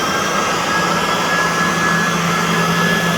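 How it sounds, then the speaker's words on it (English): A blower or shop vacuum pulls air through an old fuel oil tank, giving a loud, steady whooshing roar with a constant tonal hum that holds evenly throughout. "going to put a vacuum on this thing and suck some air through it"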